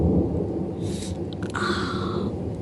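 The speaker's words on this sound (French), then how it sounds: "Franchement, orage de nuit, je n'avais pas prévu." Night thunderstorm in the Gard, France, with deep rolling thunder rumbling loud and near over steady rain.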